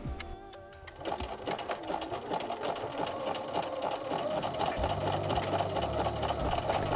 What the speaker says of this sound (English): I'm just stitching sort of halfway along. I used quite a wide zigzag stitch